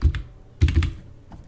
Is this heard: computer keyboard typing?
yes